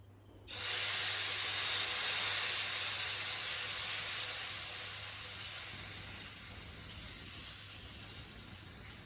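Sweet potato adai batter hits a hot pan with a sudden loud sizzle that settles into a steady, bright hiss, easing slightly over several seconds, close up with no talking.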